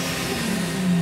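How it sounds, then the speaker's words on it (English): Supercharged Infiniti G35 engine making about 550 horsepower, revved in a steady high whine that climbs slightly near the end, loud and close with no talking over it. "That's a G35 motor?"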